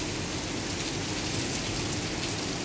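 Steady rain falls outdoors, a dense, even hiss of drops on surfaces, close and constant with no voices.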